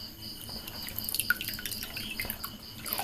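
Homemade grape wine drips through a cloth towel strainer in irregular small plops and trickles, close and quiet, with a few brighter drops standing out.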